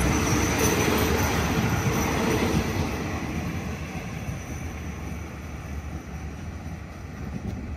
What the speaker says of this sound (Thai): Express Train Number 83 for Bangkok to ตรัง